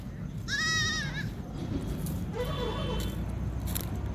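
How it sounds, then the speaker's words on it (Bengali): A small goat kid on a sandbank of the Damodar river bleats twice, a short quavering cry followed by a fainter one, over a steady outdoor rumble of wind and ambient noise. "একটি ছোট্ট ছাগল ছানা।"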